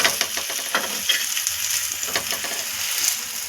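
A bajra flour thalipeeth fries in hot oil in a kadhai as it is flipped, giving a bright, crackling sizzle that runs steadily throughout, close and fairly loud, with no voices.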